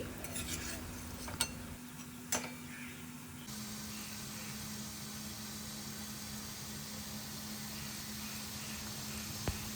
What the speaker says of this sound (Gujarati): તો તેલ મીડિયમ ગરમ હોય ત્યારે આ મૂઠિયાને તળવામાં મૂકી દેવાના છે